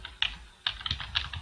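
Rapid clicking of computer keys as replies are typed on a keyboard, in short irregular bursts separated by brief pauses, close and alone with no talk.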